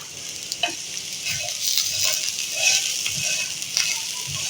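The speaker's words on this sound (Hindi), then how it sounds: "अब मैं इनको अच्छे से फ्राई कर दूंगी।" Bitter gourd (karela) frying over high heat in a pan with turmeric and salt, a steady sizzle interrupted by occasional scraping and stirring sounds.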